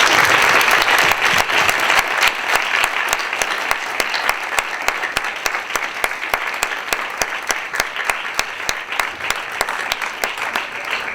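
A conference audience applauds the panel speakers at the close of a Harvard Spain annual conference session: dense, sustained clapping from many hands fills the room, steady throughout with only a slight easing toward the end.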